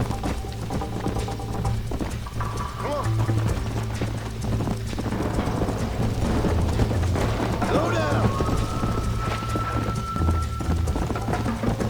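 A horse galloping in the western video game Red Dead Redemption, steady rhythmic clip-clop of hooves throughout with a brief whinny, under game music and intermittent talk.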